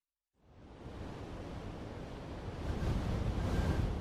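Wind blows on a cold, cloudy winter day with snow on the ground, rising from silence into a broad, steady rush that grows louder toward the end, with no talk.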